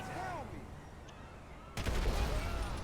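Someone talks briefly, then a cheat-code gun in GTA 5 opens up with a sudden, loud, sustained burst of gunfire that runs to the end.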